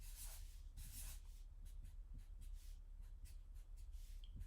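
Marker or pencil drawing small plus signs on paper, a run of quick short scratchy strokes in an irregular rhythm, close and faint.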